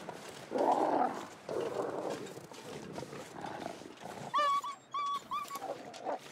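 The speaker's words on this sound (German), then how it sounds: "Ich höre immer noch Knurren und Zähne fletschen." Wolves in The Long Dark snarl and growl in a run of rough, breathy bursts, followed by a few short, higher yelping cries near the end, fairly faint and alone.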